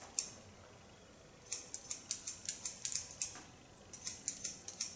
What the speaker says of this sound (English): Hear this lovely sound of this Kyoto scissor.